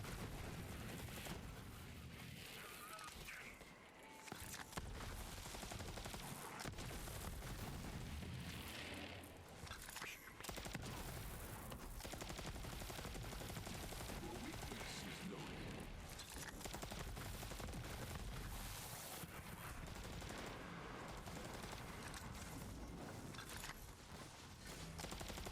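Rapid bursts of gunfire from a gun in Borderlands 3 on PS5, dense and continuous over busy game effects, with brief lulls between volleys of shots.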